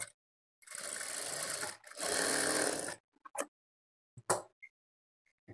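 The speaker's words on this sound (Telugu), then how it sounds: "ఈ విధంగా క్రాస్ గా స్టిచ్ చేసుకోవాలి ఇలా స్టిచ్ చేసుకున్న తర్వాత ఇప్పుడు ఇదే స్టిచ్ మీద ఇంకొక స్టిచ్ వేసుకోవాలి" A sewing machine stitches darts on a blouse front in two sustained whirring runs of about a second each, followed by a few short clicks and taps as the fabric is adjusted.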